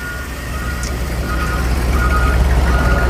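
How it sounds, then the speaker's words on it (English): The engine of a 1951 Ford Country Squire woody wagon idles with a steady low rumble heard from behind the car. The sound is continuous and moderately loud, and it swells slightly toward the end. "Nice little rumble, not too obnoxious, just a nice sound back there."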